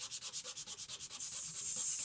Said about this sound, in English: Sanding. Hooray.